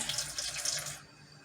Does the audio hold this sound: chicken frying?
no